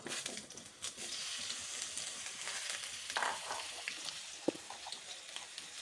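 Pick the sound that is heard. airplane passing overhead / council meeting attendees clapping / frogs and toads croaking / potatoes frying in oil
potatoes frying in oil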